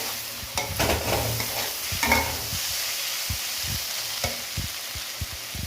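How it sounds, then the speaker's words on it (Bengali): Potatoes fry in a pan under a steady sizzle while a spatula scrapes and knocks against it in repeated short strokes, close and clear, with no voices. "আলুটা প্রায় ভাজা হয়ে এসছে"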